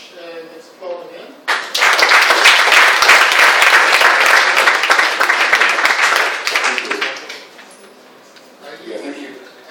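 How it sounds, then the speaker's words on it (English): Audience applause after an academic talk at a mathematics conference swells suddenly into loud, dense clapping for several seconds, then fades as a speaker's voice returns. "Let's applaud again."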